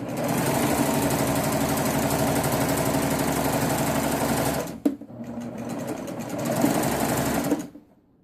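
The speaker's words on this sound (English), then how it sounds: "I'm just going to run them out the machine because it won't work unless I've got it shut" A serger sewing machine runs fast to chain threads off, a loud steady mechanical whir for several seconds, then a brief pause with a click before a second run that trails off.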